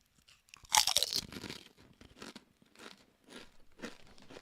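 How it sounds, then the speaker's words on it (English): Crisps are eaten close to the microphone: one loud sharp crunch, then a run of softer crunchy chewing bites on its own. "Listen to the crunch."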